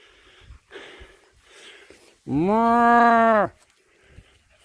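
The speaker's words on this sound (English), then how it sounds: "that's the herd of bulls. And they're not a friendly bunch" A single loud, drawn-out bellow from a bull in a herd, rising out of quiet outdoor jungle background noise in the Dominican Republic and lasting about a second.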